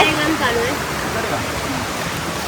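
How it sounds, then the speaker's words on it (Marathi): A waterfall at the Kondhana caves pours in a continuous broad rush, loud and close, while people talk over it. "आम्ही परत त्याच धबधब्यावरती आलोय"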